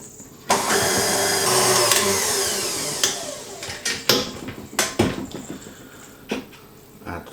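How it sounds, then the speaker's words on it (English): An electric hand mixer whirs loudly and steadily as it beats egg yolks and sugar in a bowl, then breaks into shorter, uneven bursts with clunks against the bowl. "Now I'm going to beat together the egg yolks and the sugar."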